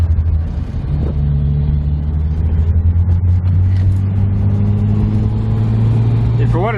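A car engine rumbles loud and close in a low steady drone, rising gradually in pitch as it revs through a downshift, with a brief chirp near the end.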